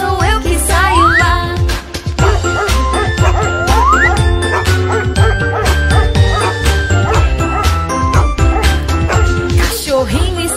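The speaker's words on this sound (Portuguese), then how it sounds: "Cachorrinho está latindo lá no fundo do quintal." Small dog yipping and barking through a Brazilian Portuguese children's nursery song, the barks repeated in short bursts over bright sung music and jingling percussion, fairly loud and mixed into the track.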